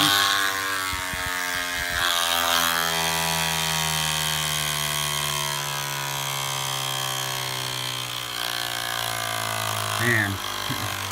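Close, loud steady buzz from the compressed-air piston engine of an Air Hogs Accelerator toy plane, holding an even pitch that dips slightly near the end, with brief handling knocks early on.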